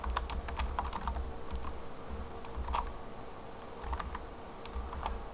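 Keys clatter on a computer keyboard as C# code is typed in Visual C# 2010, a steady run of close, crisp clicks with short pauses, no talking.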